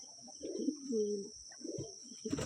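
A Lotan pigeon near its two chicks gives soft, close cooing calls in several short bursts separated by brief pauses, with faint rustling around them.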